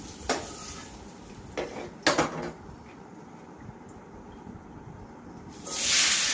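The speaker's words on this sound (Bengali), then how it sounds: "আমি চিংড়ি মাছ দিলাম তেলে" Shrimp dropped into hot oil: a few pan and utensil clatters, then a loud, broad sizzling hiss bursts up near the end and holds.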